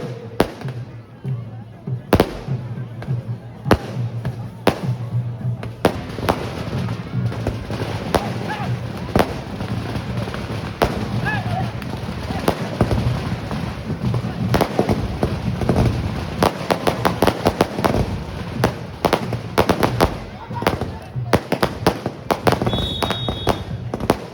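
Firecrackers and fireworks going off near a crowded outdoor event with a tent setup, sharp cracks and bangs repeating irregularly throughout, some loud and close, over constant crowd murmur and voices.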